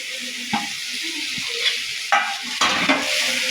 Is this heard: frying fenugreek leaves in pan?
yes